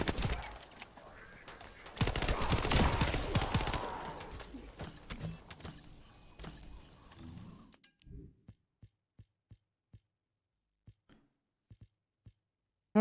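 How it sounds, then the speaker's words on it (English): Gunfire in The First Descendant video game: a dense, loud burst of shooting for several seconds, then a string of sharp, evenly spaced single shots that fade toward silence. "Who the hell is shooting?"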